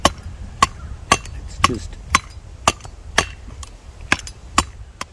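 A Schrade Frontier shovel-saw combo chops at wood outdoors, giving about ten hard, sharp whacks at a steady pace, close and loud, with a brief spoken remark in between.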